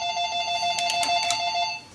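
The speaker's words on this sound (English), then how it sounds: "let me get the phone" A telephone ringing indoors: a steady electronic ringtone with a sustained tone and a burst of quick trills, moderately loud and close, with no talk.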